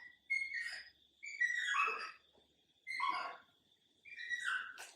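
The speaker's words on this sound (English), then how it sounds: "I think that is a dog." A dog in a back room of a large Jamaican mansion gives four separate high, whining whimpers. Each lasts about a second, with quiet pauses between them, and sounds somewhat distant and soft.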